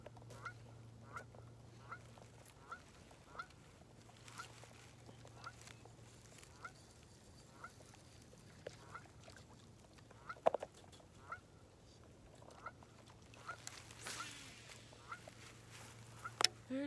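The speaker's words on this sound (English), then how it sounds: "Those are geese, by the way." Geese honking and squawking at a Michigan pond, with repeated calls rising in scattered bursts over a low steady hum, fairly faint and distant.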